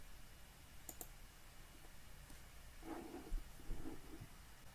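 A computer mouse clicking while saving a photo file, with a couple of quiet, sharp clicks over a low room hum and a few soft thuds, faint and close.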